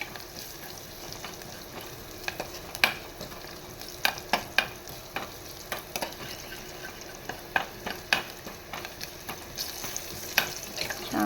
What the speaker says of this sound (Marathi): छान फोडणी मस्त लाल करून घेऊया.